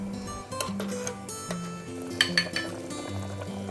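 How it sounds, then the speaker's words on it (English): Tomato egg drop soup stirred in a pot, with a spoon scraping and clinking against the metal and a light simmering sizzle underneath, small clatters scattered irregularly over a few seconds, close and moderate. "Stir this well and let it simmer for half a minute."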